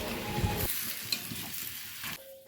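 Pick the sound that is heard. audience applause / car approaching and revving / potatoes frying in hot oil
potatoes frying in hot oil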